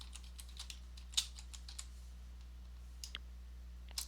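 Someone types a password on a computer keyboard while installing updates on Linux Mint: a sparse run of light key clicks, close and fairly quiet, with gaps and one sharper tap, over a steady low hum.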